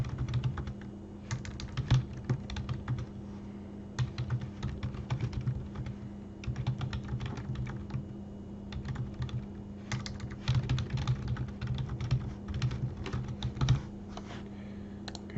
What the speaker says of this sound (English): Okay, so basically we can start typing.